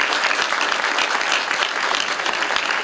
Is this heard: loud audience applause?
yes